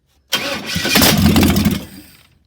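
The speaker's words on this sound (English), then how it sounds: "now we're going to crank the motor, and it should fire" An old carbureted engine with push-button ignition cranks briefly and catches, firing up into a loud, steady run before dropping away near the end.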